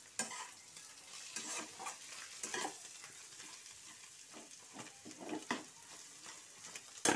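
Chowmein with egg lightly frying in a home kitchen pan, a steady soft sizzle broken by repeated scraping stirs and clinks of the spatula, close and moderately quiet with no talk.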